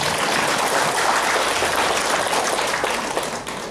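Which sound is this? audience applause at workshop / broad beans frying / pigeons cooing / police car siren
audience applause at workshop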